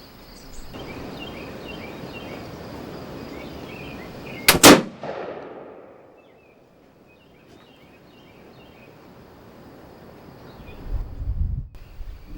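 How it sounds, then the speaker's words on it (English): A single sharp, loud blast from a black powder inline muzzleloader rifle loaded with 100 grains of powder, fired outdoors in wind, followed by a fading rumble, a quiet stretch and some low wind buffeting near the end. "Now we're ready to shoot. Let's hope it goes off."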